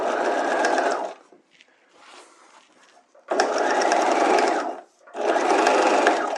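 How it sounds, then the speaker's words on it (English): An electric sewing machine stitching a bodice hem edge to edge, running in three steady motorized bursts with short pauses between them. "So again, I'm just sewing the two together."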